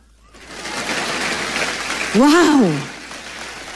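A church congregation breaks into a swell of applause during a sermon, a broad wash of clapping that rises and holds, while one voice calls out an exclamation partway through.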